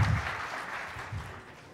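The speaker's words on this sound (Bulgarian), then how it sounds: "Още веднъж аплодисменти за Слави" An audience at a Selenium testing talk applauds the speaker Slavi, a short burst of steady clapping that fades slightly over under two seconds.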